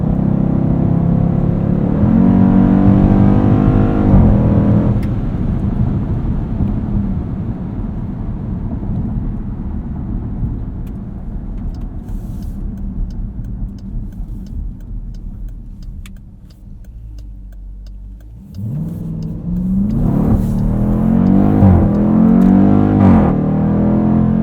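A 2020 Dodge Durango SRT accelerating hard through its gears, with a loud, rising engine roar that drops at each shift, a brief lull with faint clicks, then the roar climbing again, heard from inside the cabin.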